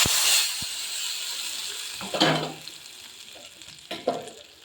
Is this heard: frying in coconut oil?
yes